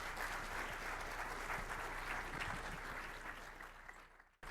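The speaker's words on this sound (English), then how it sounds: "Let's give a big round of applause to Alan." Audience applause at the close of a security conference talk, a steady dense wash of clapping from a sizable crowd that holds for several seconds, then cuts off abruptly near the end.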